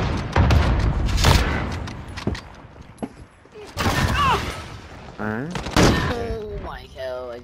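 An Uzi submachine gun in a video game rattles off several loud bursts of rapid fire with short gaps between them, and a voice speaks over the later shots.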